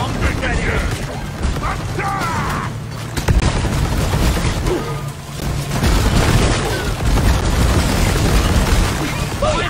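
Bomb detonator blast in the video game Deep Rock Galactic during a salvage operation, a dense booming rumble amid ongoing gunfire-like clatter and mechanical noise, loud and sustained throughout, with voices faintly mixed in.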